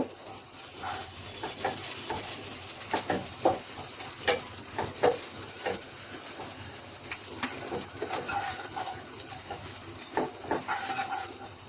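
Onions frying in a pan for shrimp pulao, with a steady soft sizzle under scattered clinks and scrapes of stirring, heard up close with no talking.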